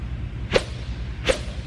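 Two quick swishes of a 2018 Prince squash racket cutting through the air, evenly spaced about three-quarters of a second apart, close and fairly soft against a low background hum.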